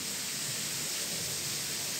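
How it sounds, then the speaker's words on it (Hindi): Heavy morning downpour during a thunderstorm, a dense, continuous hiss of rain with no distinct thunder. "और ये आज हमारे यहाँ की ख़तरनाक बारिश।"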